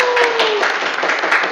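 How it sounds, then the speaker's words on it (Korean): An indoor audience claps warmly to welcome two young Seongbuk district council members as panel guests, steady applause throughout, with a host's voice speaking over the start. "큰 박수 부탁드리겠습니다."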